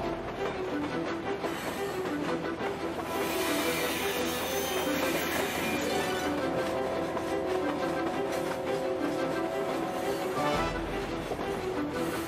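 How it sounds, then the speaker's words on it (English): A runaway train rumbles and rattles along the rails, a continuous loud roar of wheels and carriages with metallic clatter and squealing, sustained throughout without pause. "We have a runaway train."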